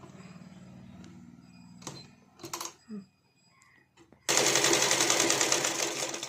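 A sewing machine stitching a blouse, quiet handling and a few clicks at first, then a loud, fast, continuous mechanical run of stitching close by for the last two seconds.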